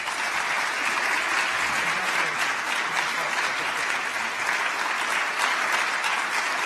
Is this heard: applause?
yes